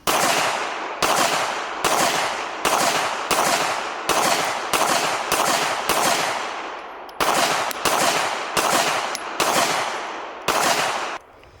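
A Springfield Echelon pistol fires about thirteen loud, sharp shots at a steady, even pace, each crack ringing briefly before the next.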